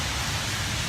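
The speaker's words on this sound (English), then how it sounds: "Just a little bit of rain coming off the roof" Rain dribbling off a roof after a thunderstorm makes a dense, steady wash of splashing water, loud and close, with no voices.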